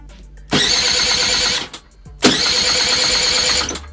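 A car engine cranks and fires twice with a key, each start a loud burst that runs about a second before cutting off, heard up close with a brief quiet gap between the two attempts.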